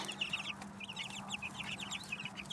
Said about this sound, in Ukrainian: курчата по драбинці знов заповзли у клітку